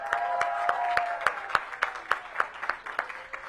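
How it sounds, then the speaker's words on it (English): Audience claps at the Downtown DC Holiday Market launch, a thin scattering of separate claps over a murmuring crowd and a lingering tone, tapering off over a few seconds. "That deserves a round of applause, right?"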